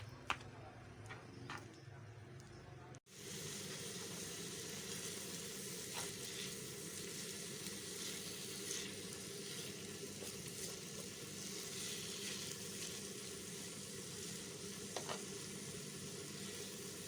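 Shea butter mixture simmering in a pot over low heat, a continuous soft bubbling sizzle that runs steadily after a brief quieter start, with faint occasional clicks.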